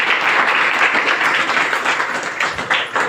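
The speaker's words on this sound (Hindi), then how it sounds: "एक व्यक्ति, क्या बात, जोरदार ताली" A crowd at a Hindi-language RCM business income-plan meeting claps loudly and steadily, a dense wash of applause that holds throughout with no talk over it.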